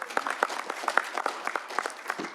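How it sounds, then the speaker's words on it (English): An audience at an economic security summit applauds a speaker with a brief burst of distinct, fairly sparse hand claps from a moderate-sized crowd, close and clear. "Can we give her a round of applause?"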